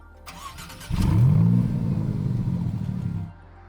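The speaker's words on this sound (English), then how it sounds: "You hear behind me that V6 engine." A Maserati MC20 supercar's V6 engine starts with a brief clatter, then settles into a loud, steady mid-pitched roar for a few seconds, with no talking.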